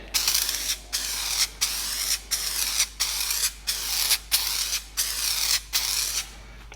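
Mr Sheen polish aerosol sprayed as a homemade water-repellent coating: about nine loud, close hissing bursts, each close to half a second long, separated by brief pauses in a steady rhythm.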